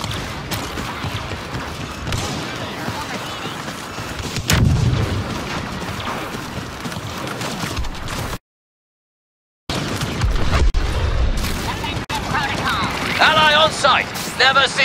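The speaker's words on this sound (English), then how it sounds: "Try to get creative with the ATE's heavy cannon." Heavy cannon blasts from an AT-TE walker in Star Wars Battlefront on the Geonosis battlefield, loud booming shots amid mechanical clanks and battle noise, with a short silent gap midway and voices over the action.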